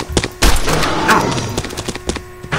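Gunfire from a Fallout 3 weapons mod in the game Garry's Mod: several loud, sharp shots in quick uneven succession, one heavy blast near the start, followed by scattered lighter reports.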